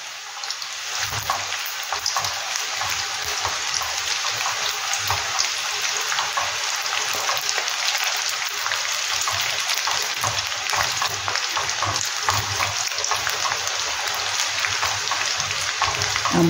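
Nimki, a maida snack, deep-frying in hot oil gives a dense, even, crackling sizzle that carries on unbroken and fairly loud from start to finish, close up, with no voices.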